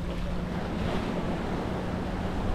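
Ocean waves at sea around a fishing boat off Negombo, Sri Lanka: a steady, close wash of surf and water with wind noise buffeting the microphone throughout.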